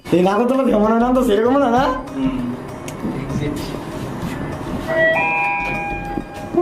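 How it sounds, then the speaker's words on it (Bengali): A train stands at a station platform, with a steady rumble of station and engine noise and a few brief tonal sounds near the end. A voice is heard early on. "এখানে আমাদের ট্রেনটা দাঁড়িয়ে আছে"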